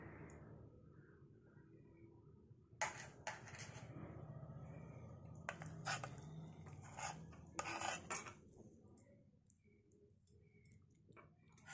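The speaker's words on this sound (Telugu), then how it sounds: "బెల్లం ఇలా చిన్న చిన్న పీసులు కట్ చేసుకోవాలి" A knife cuts jaggery into small pieces in a kitchen, producing scattered sharp clicks and knocks in short bursts over a low background hum, fairly close and moderately quiet.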